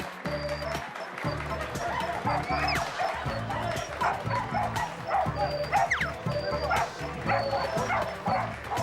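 A small dog yaps repeatedly in quick bursts throughout a show in London, loud and close, over a busy background of music and crowd noise.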